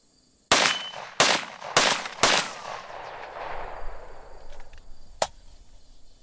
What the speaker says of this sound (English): Four more shots.